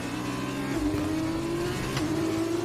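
A race car engine in a racing video game drones steadily, its pitch climbing slightly as it accelerates out of a hairpin, constant and moderately loud with no talk over it.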